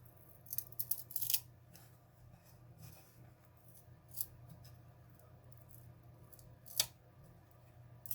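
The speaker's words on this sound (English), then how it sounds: "So let's try and peel this label." Peeling a paper label off a flight instrument during a teardown: scattered short rasping, tearing bursts at close range over a low steady hum, with quiet gaps between pulls.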